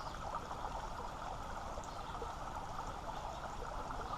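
A creek's moving water runs steadily with a constant soft rushing and trickling wash, faint and unbroken throughout, with no voices.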